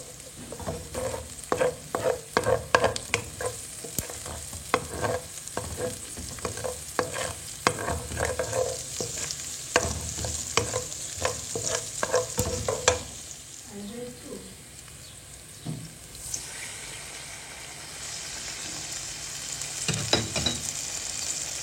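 Onion sizzles and fries in a pan for a Mediterranean sardine meatball dish, with repeated scraping and clacking stirring strokes over a steady sizzle that quiets midway before stirring resumes.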